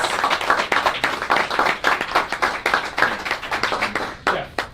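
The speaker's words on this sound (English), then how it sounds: "A round of applause real quick for Glenn Yates." A small crowd at a Houston podcasting meetup claps briskly for Glenn Yates, a close, lively burst of hands that swells and ebbs over a few seconds.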